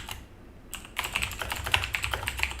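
Rapid typing on a computer keyboard, close and busy, with a brief pause near the start before a dense flurry of key clicks and clacks continues to the end.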